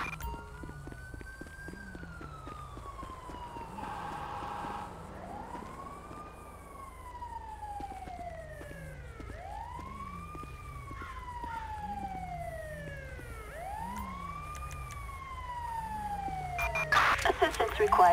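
A wailing ambulance siren in the GTA 5 video game repeatedly sweeps up and down at steady volume, joined by a second higher siren, with brief dispatch radio chatter near the end.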